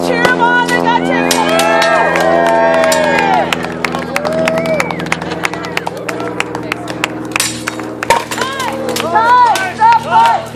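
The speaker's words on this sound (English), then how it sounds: "Let's cheer them on." Spectators cheer and whoop loudly at an Armored Combat League regional fight in Santa Fe, with shouts, scattered clapping and the occasional clank of armored fighters under a continuous, close crowd roar and voices.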